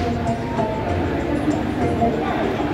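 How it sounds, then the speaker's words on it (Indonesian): The Jayabaya passenger train approaches a station, a low continuous rumble with faint rail clatter, while someone speaks over it. "dari jauh itu adalah rangkaian kereta api Jayabaya yang akan saya naiki."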